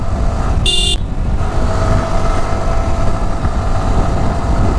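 A Yamaha R15 motorcycle with a six-speed gearbox climbs a hill in third gear and then shifts up, giving a close, steady engine drone with wind noise and a brief horn-like toot near the start.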